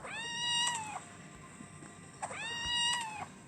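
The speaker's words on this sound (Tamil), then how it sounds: "கரடி மாதிரி கத்துது அவங்க பூனை." A cat meows loudly twice, each call a long, drawn-out wail rising then falling, separated by a short pause, close and clear over faint background hum.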